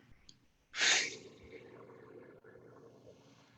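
A single deep, forceful breath drawn in during a guided breathwork meditation, a sharp rushing burst that fades into quiet room tone, with no talking.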